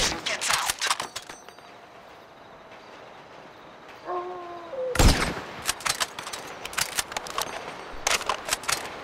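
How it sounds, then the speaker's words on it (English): Gunfire in GTA V as shots take out the lights on a tower: bursts of sharp broadband cracks early, a pause, then a heavy blast followed by a rapid string of repeated shots, all fairly close. "Quick, shoot out the lights on the tower above him!"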